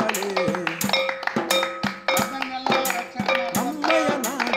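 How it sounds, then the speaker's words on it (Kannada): A crowd claps hands together in a steady rhythm to thank medical staff during the Janata Curfew, with sharp, evenly spaced claps under loud group chanting. "ಭಯವನ್ನು ತೊಲಗಿಸಿದ ವೈದ್ಯ ಸಿಬ್ಬಂದಿಗೆ ಚಪ್ಪಾಳೆ"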